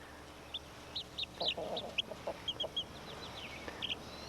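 Soft clucking from a hen with high, thin peeping of chicks, scattered short calls over a quiet outdoor background.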